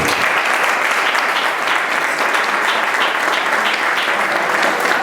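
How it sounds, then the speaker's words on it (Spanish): A lecture audience gives a loud, sustained round of applause, dense crowd clapping that stays even throughout without a break. "Un fuerte aplauso"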